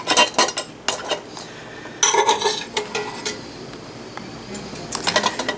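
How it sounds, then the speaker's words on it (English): Metal clinking and clattering as boiled eggs are moved from a big metal pot to a smaller one, in irregular bursts of knocks and scrapes close by, with no talking. "I'm taking eggs out of the big pot, transferring them to something a little smaller"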